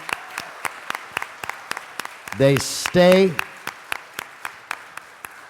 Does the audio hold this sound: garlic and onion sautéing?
no